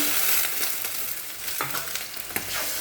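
Fish frying in a pan with a steady broadband sizzle, a spatula or stirring scrape now and then, and a sharp click near the end; no one speaks.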